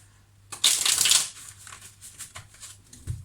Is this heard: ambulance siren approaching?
no